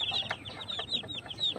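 Newly hatched Rhode Island chicks peep in quick, high chirps, several small cheeping calls overlapping softly and close by with no talk.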